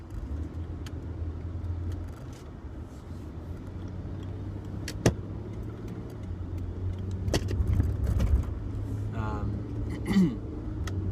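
A car travels along a road with a steady low engine hum and road rumble from inside the cabin, broken by a few sharp clicks and rattles, with a soft swell later on; no one speaks.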